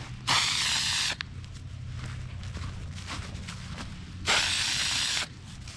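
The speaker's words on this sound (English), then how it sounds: "We're going to drill oversized holes" A power drill boring oversized holes for fence posts runs in two bursts of about a second each, loud and close, separated by quieter outdoor background.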